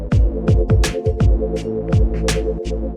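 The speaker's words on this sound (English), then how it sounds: "Bit of detuning." Synthesizer notes with a detuning effect applied, a run of loud plucked-sounding tones with repeated attacks and steady sustained harmonics, no voice over them.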